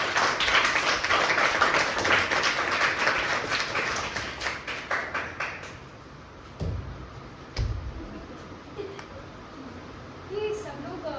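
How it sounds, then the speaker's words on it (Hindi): Loud applause from an audience greeting a guest at a children's drama stage play, dense clapping that thins into scattered claps, with voices talking over it. "एक बार जोरदार तालियों से स्वागत कीजिए आईएएस मैडम सर का।"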